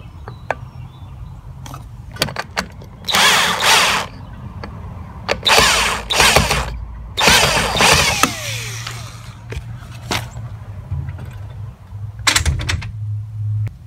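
A power drill driving a 2-inch screw into the base of an Andersen 2000 storm door closer, heard as several short whirring bursts with pauses between them and a low motor hum in the background.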